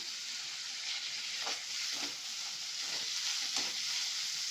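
Round-sliced green chillies frying in a pan for a dahi bhindi gravy, a soft continuous sizzle with a few faint stirring scrapes, quiet and steady with no talking.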